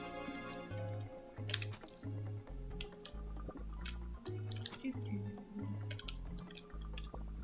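Watering in the video game Turnip Boy: a run of soft, wet dripping and squishing sounds repeats over a steady game music loop with a pulsing bass line.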